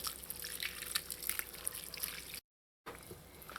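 Hot water is poured onto dried mango for achar, a steady liquid trickle and splash that cuts off briefly before resuming.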